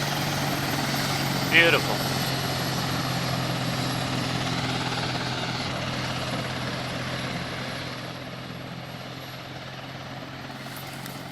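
A helicopter in the military game Arma 2 drones steadily throughout with a constant rotor and engine hum, near and fairly loud, while someone briefly speaks over it.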